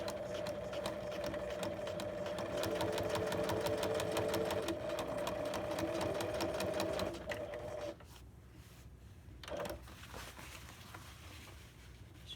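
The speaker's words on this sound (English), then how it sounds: "now I'm going to go back down to get that double stitch look, using the original seam as my guide." A sewing machine runs a long, fast, even stitching burst while topstitching a double seam on a trouser fly, then stops, followed by quieter handling and a brief short whir.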